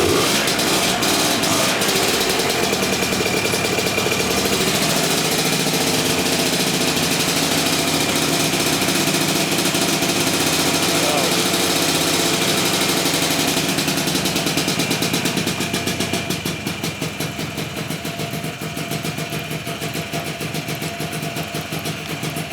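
An old abandoned bar-find Lambretta scooter engine runs on choke with a loud, buzzy, continuous idle close by, easing slightly toward the end with no talking.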